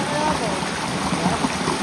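A strong, steady rush of floodwater flowing after heavy rain fills the short clip, with broadband noise and no clear voices.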